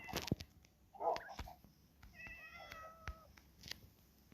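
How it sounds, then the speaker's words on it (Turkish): Several quiet Minecraft cat meows sound against a soft background, interspersed with small clicks and taps. "Kedilerim var. Bir sürü kedim var."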